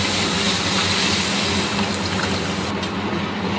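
Cooked mung dal is poured into a pan in one continuous loud rushing, sizzling wash of sound, with no one speaking.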